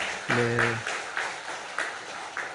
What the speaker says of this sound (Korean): 우리 큰 박수로 위로하는 마음으로 기도하겠습니다